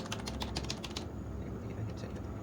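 Computer keyboard keys are typed in a quick close burst of clicks that stops partway, leaving a quiet steady room hiss.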